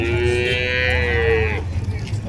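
A reddish-brown calf lowing at a busy cattle market in Vaniyambadi, one loud, close, drawn-out moo about a second and a half long over a low crowd murmur.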